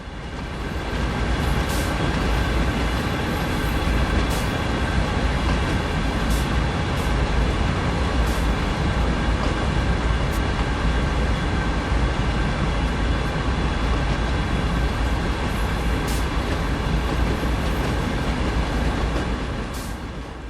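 A driverless runaway train in Train Sim World 4 rolls past with the throttle still open, a loud, steady rumble of wheels and engine filling the whole stretch, with faint periodic clanks over the continuous roar.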